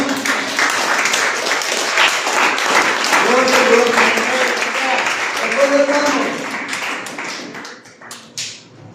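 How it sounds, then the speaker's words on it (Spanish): A church congregation claps loudly and steadily with voices mixed in, the applause tapering off toward the end. "Denle un fuerte aplauso a Cristo"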